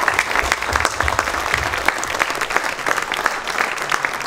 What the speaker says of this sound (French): c'est moi qui vais vous applaudir